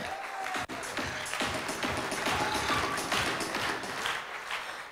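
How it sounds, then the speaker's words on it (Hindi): Audience clapping at a seminar gathering, a dense steady wash of many hands filling the room at moderate volume, with faint voices mixed beneath. "ताली बजाइए सर के लिए"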